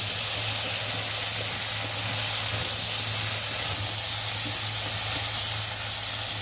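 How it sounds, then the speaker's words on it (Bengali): Potato pieces fry in hot oil in a pan, giving a continuous loud hiss and sizzle that holds steady throughout with no breaks. "এই আলুটা ভেজে নেব"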